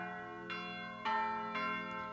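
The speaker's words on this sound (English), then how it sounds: "Soon it rang out loudly, and so did every bell in the house." Bells ringing throughout an old house, three successive resonant strikes about half a second apart, each leaving a long sustained ringing tone that swells slightly louder with the later strikes.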